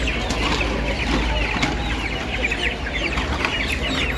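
Chickens cluck steadily at Kaptan Bazar poultry market in Dhaka, a dense, continuous chorus of birds close by with a constant low market rumble underneath and no clear talk.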